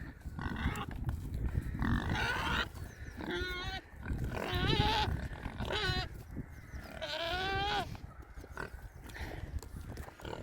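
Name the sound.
Large Black and Saddleback pigs on a farm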